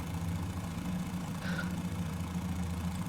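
Engines of a Fokker F VII retrofit running throttled back in Flight Simulator 2020, a steady low droning hum with a pulsing rumble, continuous and even, with no talk.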